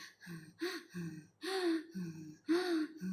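A person imitates the rapid, labored breathing of a Covid-19 patient with lung infection, producing a series of quick, audible gasping inhales and exhales, close and fairly quiet.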